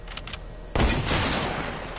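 A sharp game gunshot in a sniper battle cracks out partway through, followed by a loud burst of rapid gunfire from a first-person shooter.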